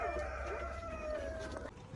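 Roosters crow and chickens call inside a newly built poultry farm shed, the crowing near and drawn out over a low steady background hum.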